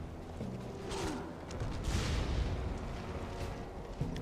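Cannons fire from a character's wrists in the PS3 dark fantasy game Folklore, producing rumbling booms and mechanical creaks over a dense game soundscape, with no talking.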